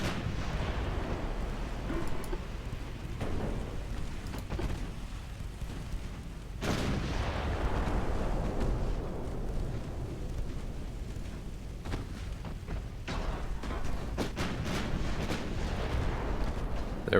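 Naval gunfire in Ultimate Admiral Dreadnoughts, with armed transports firing 3.6-inch guns alongside a British 1900 fleet: dense, continuous rumbling booms and overlapping distant gun reports, a heavier blast around the middle, steady and loud throughout.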